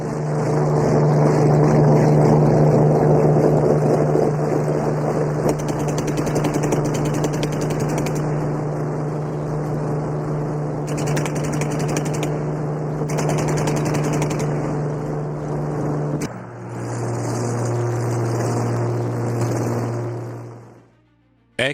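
A de Havilland Mosquito propeller aircraft on ocean patrol drones loudly and continuously, with a steady engine hum that shifts pitch partway through before fading out at the end.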